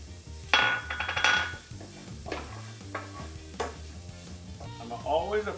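Green onions hit a hot pan of frying mushroom caps, bringing a bright burst of sizzle with scraping and clinking of a utensil against the pan, then a softer frying hiss under occasional stirring knocks.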